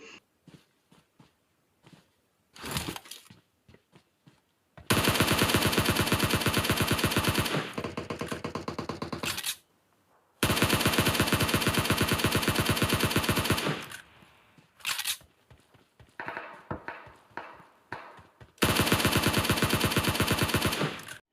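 Bursts of rapid automatic gunfire in PUBG Mobile, long sustained volleys broken by short pauses and scattered single shots.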